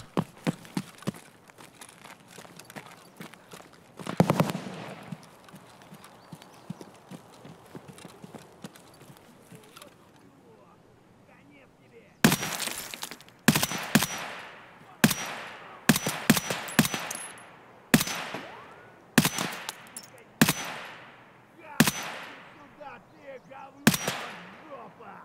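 Gunfire in Escape From Tarkov: after a quieter stretch with a talking voice and a faint early shot, a series of sharp, loud shots crack out at uneven intervals, each trailing a brief echo.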